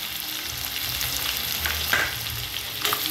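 Chopped onion softening in a pan for a chicken curry with yogurt, a dense, steady sizzle close by with a few faint utensil scrapes.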